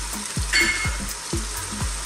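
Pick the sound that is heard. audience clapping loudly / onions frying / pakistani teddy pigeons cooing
onions frying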